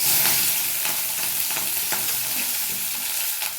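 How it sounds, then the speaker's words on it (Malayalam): Green beans tumble into hot oil with popping mustard seeds in a Kerala-style stir-fry, a steady loud sizzle with scattered crackles and light stirring scrapes, no voices. "കുറച്ച് എണ്ണ ഒഴിച്ചു കൊടുക്കാം. കടുക് ഇട്ട് കൊടുക്കാം. ബീൻസ് ചേർത്ത് കൊടുക്കാം."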